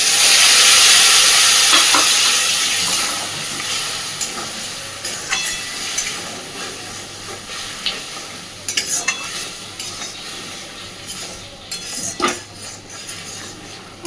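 Water hits frying spices with chilli powder in a pan, setting off a loud burst of steam and sizzle that settles into softer frying, with a spoon stirring and scraping the pan now and then.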